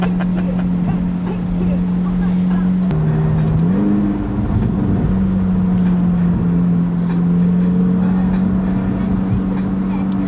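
A Ferrari 488 engine purrs with a steady low drone while driving, rising briefly in pitch before settling back, heard from inside the car with a continuous road rumble.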